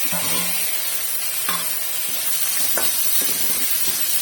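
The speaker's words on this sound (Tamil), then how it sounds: "வெங்காயம் கொஞ்சம் லைட்டாக வதங்கிருக்கு, தக்காளி சேர்த்துக்கலாம்." Onions sauté in a pan with a loud continuous hissing sizzle, broken by several short scraping clinks of stirring.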